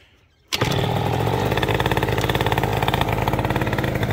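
After a brief quiet moment, a race-built SR50R motorcycle engine cranks and fires up, settling into a loud, rapid, throbbing idle close by.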